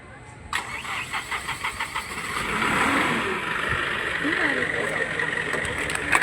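A new school bus engine in Goa cranks with a rapid series of starter pulses, then catches and settles into a steady mid-pitched idle that carries on to the end.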